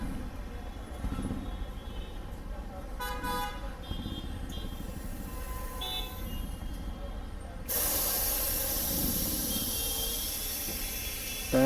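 Air hisses steadily while a TVS NTORQ scooter's tubeless tire is inflated and checked for leaks, the hiss growing noticeably louder and brighter partway through amid continuous background noise.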